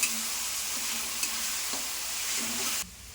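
Potatoes sauté with salt in a pan for upwas khichdi, giving a soft, even sizzle with a few light stirring scrapes, fairly quiet and close, ending abruptly near the close.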